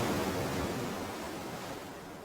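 Cartoon ocean waves as the sea parts: a steady, full rushing wash of surf that holds evenly throughout and eases off slightly toward the end, with no voices.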